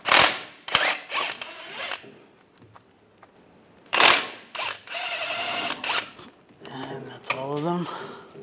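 Ratchet clicking while loosening bolts on the front driver's side CV axle of a 1998-2010 Volkswagen Beetle, bursts of ratcheting and metallic clatter in several short runs, with someone speaking at times.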